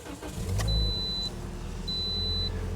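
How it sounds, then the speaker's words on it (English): Toyota Corolla engine starting with a newly programmed key: a steady car engine rumble rises after a brief crank and settles into a continuous idle, with a faint beep tone sounding twice. "But when we use the new key, the engine starts."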